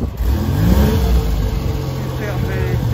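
Citroën SM with electronic fuel injection passing close by, its mid-pitched engine revving steadily throughout, with someone talking over it.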